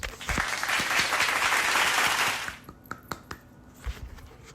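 A round of applause from an audience, a dense burst of clapping for about two and a half seconds that then thins out into a few scattered claps.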